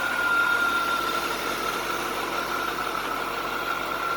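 A C4 Corvette engine idles steadily nearby, an even mechanical hum with a faint whine, unchanging throughout and with no voices.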